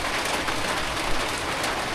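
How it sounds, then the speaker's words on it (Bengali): Heavy rain pours down on a village morning, a dense, steady broadband hiss of drops drumming on surfaces, close and unbroken, with no voices. "বৃষ্টি শুরু হয়ে গেল, ঝাঁকে ঝাঁকে বৃষ্টি"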